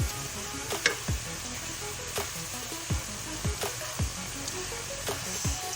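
Garlic and ginger frying with softened onions in a pan, a steady close sizzle with several sharp stirring scrapes spaced through it, and no talking.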